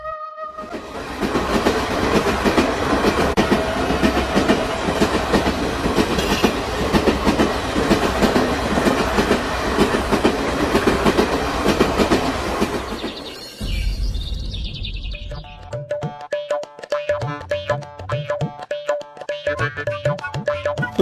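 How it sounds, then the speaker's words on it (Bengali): Cartoon train sound effect: loud, continuous rolling rumble of a train running on rails with rhythmic clatter, giving way to a brief whoosh and a sparser, tonal clanking passage at the end. "এতক্ষণ প্রায় ট্রেনে চেপে পড়েছে ওরা"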